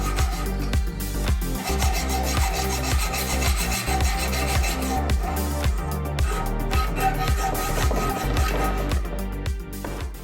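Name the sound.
sawing hardwood with a dull hacksaw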